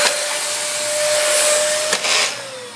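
A Dyson DC24 upright vacuum cleaner runs with its roller brush not spinning, a loud steady motor whine with a constant tonal hum and airy rush, briefly dipping and surging near the end.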